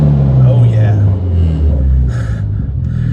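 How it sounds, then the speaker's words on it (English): A Mitsubishi Evo sports car's deep, throaty engine rumble idles and revs low and steady close by, with a voice talking over it. "You just give it a little bit of a rev just to see. You hear that rumble?"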